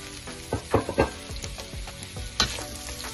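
Serrano chiles hit a hot pan and fry with a steady close sizzle, broken by a few sharp stirring clatters and spatula knocks; no one speaks.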